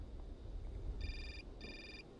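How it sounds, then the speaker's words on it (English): Telephone in the game Syberia ringing twice, two short electronic trilling rings spaced apart, fairly faint over a low rumbling background. "Another phone call."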